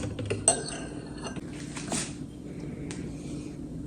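A spatula working cake rusk batter in a bowl, with faint scrapes and a few light clinks of utensil on the dish, soft and close against a quiet kitchen background.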